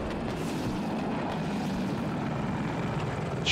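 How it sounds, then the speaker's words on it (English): Attack helicopter in the Battlefield 2042 video game, heard as a steady, dense rotor and engine roar that holds constant at close range with no break, on the Arica Harbor map. "Chopper, 70 meters from your view."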